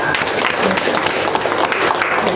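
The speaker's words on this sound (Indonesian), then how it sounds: "Tepuk tangan dulu semuanya." A roomful of participants at a grape-growing training session clap together in a loud, close burst, the dense clapping running throughout with some voices mixed in.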